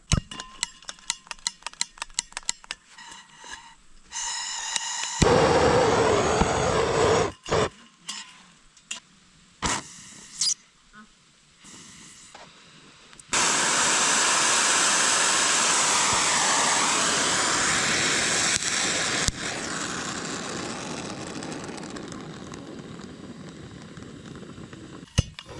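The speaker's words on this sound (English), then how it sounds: "And then adjust the flame with the blue knob." An oxy-fuel torch being lit and adjusted, with scattered ticks and clicks, a short burst of hissing, and then a long, steady, loud roaring flame that fades slightly toward the end.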